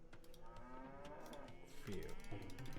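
Cattle mooing in the real-time strategy game Age of Empires II, several overlapping low bellowing moos sounding fairly close, the loudest near the end, over a steady layer of game ambience.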